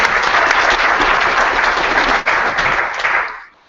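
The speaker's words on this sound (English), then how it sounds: "Quick round of applause." A crowd at a luncheon applauds steadily and loudly for a few seconds before the clapping quickly fades out.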